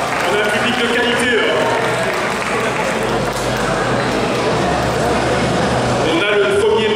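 Audience applause at a convention stage game at Mangame Fréjus, a steady roar of clapping and crowd noise filling the space while a host speaks over it.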